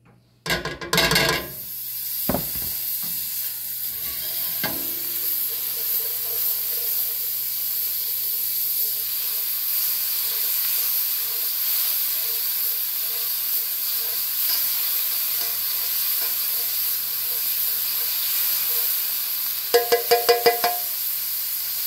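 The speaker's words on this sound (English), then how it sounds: "I'm gonna put me some butter in my skillet." Butter sizzles in a skillet, a steady hiss of frying that holds for about twenty seconds after a few clanks of the pan at the start, with a brief clatter near the end.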